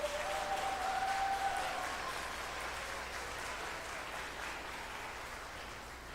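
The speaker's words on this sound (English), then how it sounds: "Let's give our students a round of applause" An audience applauds students at an elementary school graduation, a sustained wash of clapping filling the hall for about six seconds and slowly tapering without dying out.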